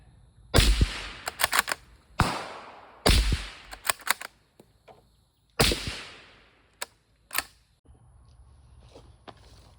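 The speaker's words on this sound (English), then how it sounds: "Big old 9mm bore rifle can, 9 1/4 inch suppressor." Suppressed 9mm gunshots from Tula 124-grain hollow-point rounds fired through a 9¼-inch 9mm rifle suppressor: four sharp, loud reports spaced a second or two apart, each followed by brief metallic clicks and clatter.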